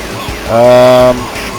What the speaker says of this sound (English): That fucking police car is constantly trying to ram me off the fucking road again